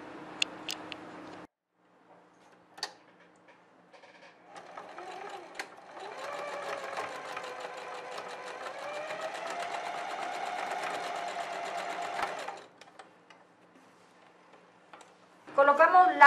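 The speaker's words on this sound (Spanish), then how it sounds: "Vamos a realizar esa costura." A sewing machine stitches a seam joining the ends of an elastic band for a girl's outfit, a steady whirring run of about seven seconds after a few short starts, with talk heard before and after.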